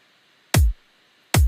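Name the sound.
soloed kick and snare drum rack track in Ableton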